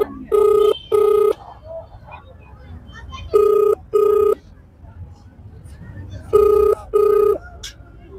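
Outgoing phone call ringback tone on a mobile line: three pairs of double rings, each pair about a second long, evenly spaced with quiet gaps, loud and close over faint background hiss.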